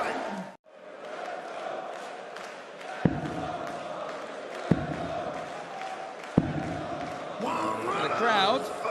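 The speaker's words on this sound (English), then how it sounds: "The crowd trying to get involved." Darts crowd at the 2023 Czech Darts Open in the arena, a steady roar of chanting and cheering throughout, with a few sharp thuds standing out and a commentator talking over the noise.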